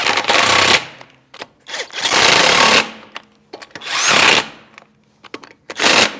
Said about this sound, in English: Take your 19mm socket and snug them up.